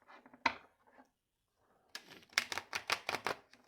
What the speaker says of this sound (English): That was pitiful attempt at riffle shuffling